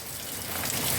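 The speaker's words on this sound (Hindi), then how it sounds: "बारिश भी हो रही जैसा कि आप देख रहे हैं" Steady rain falling on a surface, a dense continuous hiss of drops that stays loud and even throughout, with no voices.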